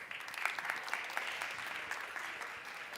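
An audience at a live tech conference stage applauds steadily, a dense, moderately faint clatter of many hands clapping throughout.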